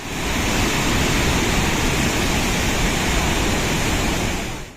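A dense, steady roar of heavy rushing water, loud and constant throughout with no pauses, from Dhanikhut waterfall in Netrang, Bharuch, in full flood after heavy monsoon rain.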